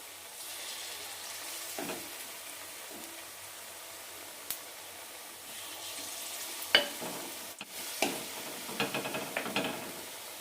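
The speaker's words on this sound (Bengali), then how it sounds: "মাশরুমগুলো ব্যাটারে ডুবিয়ে একটা একটা করে ভেজে নিচ্ছি।" Batter-dipped mushrooms frying in oil over medium-low heat for chilli mushroom, a soft steady sizzle with occasional clinks and scrapes as pieces go in and get turned, quiet and close, with no talking.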